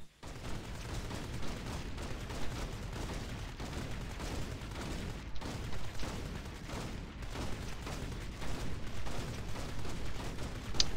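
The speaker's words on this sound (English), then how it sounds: "you have an airstrike come in, and then you've got the shield agents to come to your aid too" Black Widow's airstrike in the video game Marvel Heroes: a long, steady barrage of rapid explosions and gunfire-like bursts, dense and continuous throughout with no talking.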